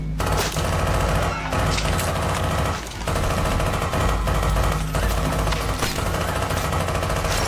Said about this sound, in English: begins an indiscriminate shooting spree